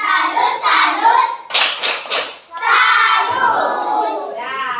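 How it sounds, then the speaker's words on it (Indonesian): Classroom children shout a rhythmic group chant with sharp bursts of unison hand claps near the middle, voices loud and close, for the final group after a water cycle diorama presentation. "coba tepuk salut sekali untuk kelompok terakhir kita"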